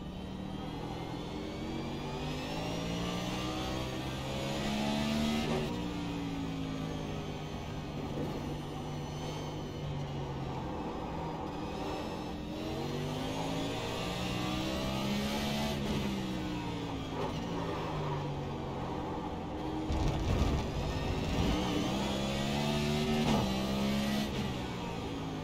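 Race car driving at speed around Sonoma Raceway, its engine loud and continuous, pitch rising and falling through repeated upshifts and downshifts as it accelerates and brakes through the corners.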